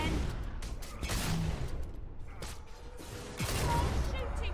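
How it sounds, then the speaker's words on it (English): Gunfire in the fantasy role-playing game Fable 2, several sharp shot bursts and clattering impacts in quick succession amid combat noise, fairly faint in the mix. "More shooting!"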